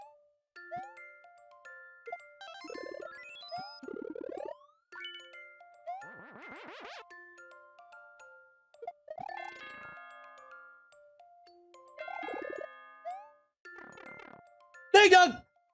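Chiming ding-dong jingle from the Super Mario Maker video game, bright tinkling notes and bouncy boings recurring in short bursts across the stretch, with a louder burst at the end.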